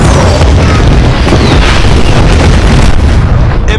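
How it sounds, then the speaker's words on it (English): A Tomahawk missile strikes an enemy runway in a film scene, a loud, sustained, rumbling explosion roar that fills the whole moment without letting up. "Impact. Enemy runway is destroyed."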